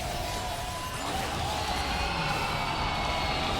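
An esports arena crowd at a League of Legends MSI 2023 match roars after a game win, a dense, sustained wash of cheering that holds steady throughout.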